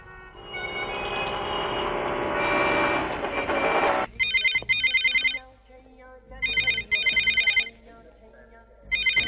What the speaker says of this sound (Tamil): அந்த போன் அட்டன் பண்ணாதே